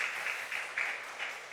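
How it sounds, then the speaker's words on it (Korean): Congregation applauding during a church service, soft, distant and steady clapping in a reverberant sanctuary for a brief moment. "우리 하나님께 영광의 박수 하겠습니다."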